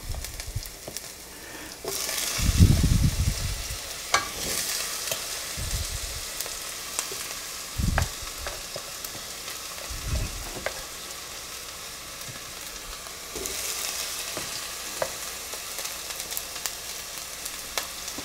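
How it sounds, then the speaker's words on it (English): Pineapple pieces and onion frying in a pan for a stew, a continuous close sizzle with a few louder clanks and scrapes of stirring, the hiss swelling after each addition. "I don't want the onion to really fry here. I just want the taste of onion. The first thing that I'm gonna add is the pineapple."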